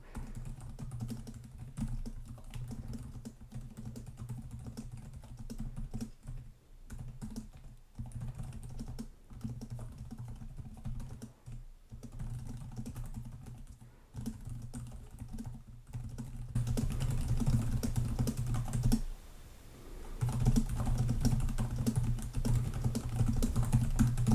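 Continuous typing on the backlit keyboard of a 2025 Lenovo Yoga Pro 9i Aura Edition laptop, a steady close patter of key clicks that briefly pauses and then grows somewhat louder toward the end, with no voices.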